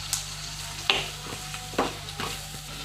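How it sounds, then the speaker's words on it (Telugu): Drumstick pieces frying in oil in a pan, giving a soft, steady sizzle broken by a few brief stirring scrapes. "వేగిపోయిన తర్వాత ములక్కాయ ముక్కలు నూనెలో ఇలా మగ్గించుకోవాలి."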